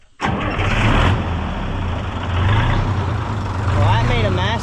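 A farm engine, with water in its exhaust, cranks and catches at once, then settles into a loud, steady low rumble that runs on without a break, with a voice briefly audible near the end.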